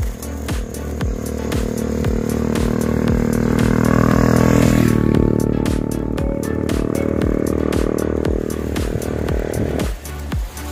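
A motorcycle speeds past on a Philippine provincial road between Tarlac and Cuyapo, heard from a bicycle, its engine swelling loud and close midway before trailing off under steady road noise.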